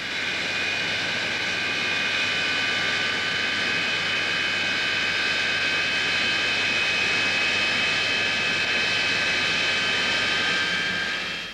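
An English Electric Lightning jet with twin Rolls-Royce Avon engines gives a steady, loud roar with a high whining tone on top, sustained evenly throughout with no talking.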